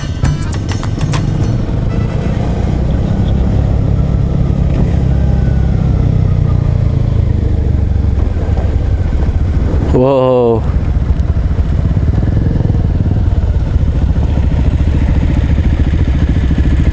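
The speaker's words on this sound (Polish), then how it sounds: "Chyba nie ma motocyklisty, który będąc tutaj nie przetestowałby swojej maszyny na ponad 2-kilometrowym pasie startowym." A motorcycle rides along an airfield runway more than 2 kilometres long, its engine droning steadily and loudly throughout, with a brief rising whine partway through.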